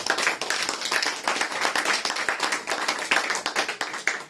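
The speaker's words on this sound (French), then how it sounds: "Acclamez pour cette parole." Church congregation clapping together, a dense, steady patter of many hands lasting the whole stretch at moderate loudness, with no voices on top.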